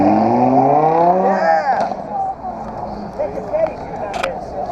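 A Porsche Panamera, an all-wheel-drive car at a Cannonball Run 2017 event in Deadwood, drives past with a loud rising then falling engine sweep, under excited talk nearby.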